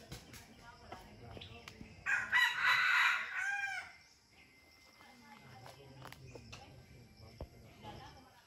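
A rooster gives a single loud, fairly close crow in the middle, surrounded by quieter background rustling and faint footsteps.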